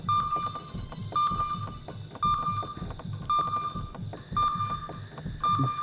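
Electronic beeping in the video game Kileak: a clear, high-pitched tone repeats roughly once per second in a steady pattern, with a few soft tonal layers underneath.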